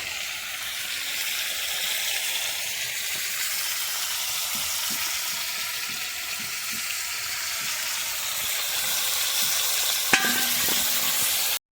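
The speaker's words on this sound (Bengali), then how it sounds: "মাছ ভাজা হয়ে গেছে, মাছটা তুলে নিই" Steady, loud sizzling of fish frying in hot oil, continuous throughout with a brief clink near the end.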